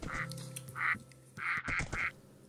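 A duck in a Minecraft mod pack quacks in a quick series of nasal calls, one, a pause, then three close together, loud and alone over a low background hum.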